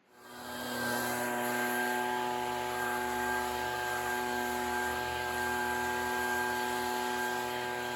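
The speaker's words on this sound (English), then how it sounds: "For that, I use the leaf blower." A leaf blower clears bees out of honey supers, its motor spinning up and then holding a loud, steady, tonal roar at close range with no talk.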